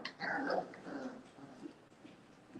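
Boerboel puppy about five weeks old whimpers close by, a short series of high whining yelps that fade into softer whines and faint snuffling.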